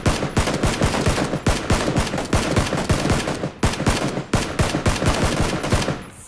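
Rifle gunfire in the battle royale game PUBG rings out in loud, rapid bursts of sharp cracks, shot after shot in close succession throughout, with no voices over it.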